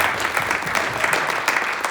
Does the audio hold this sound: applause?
yes